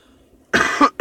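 Two close coughs after a quiet moment, the first longer and harsh, the second short and abrupt.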